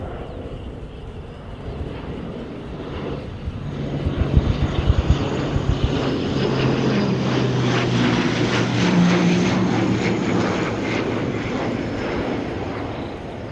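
Aircraft landing at Christchurch airport, a loud, steady roar of engines that swells as the plane passes close, with a rising whine and rumble sustained throughout.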